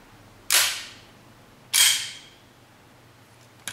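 CNC steel slide of an airsoft pistol snapping forward on release, two crisp metallic clacks about a second apart, close and loud with short ringing decays, then a faint click at the end.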